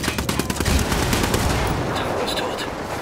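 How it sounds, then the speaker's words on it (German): Rapid gunfire in Ghost Recon Wildlands, aimed at a vehicle, crackles as a dense burst of loud, overlapping shots through the first half, then thins into a steadier stream of game noise. "Aber ich schieß jetzt."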